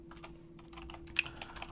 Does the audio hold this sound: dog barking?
no